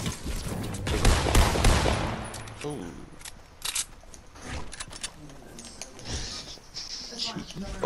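Rapid gunfire from a fast-firing video game weapon, a dense loud burst of shots early on followed by scattered shorter volleys. Voices talk under the later firing.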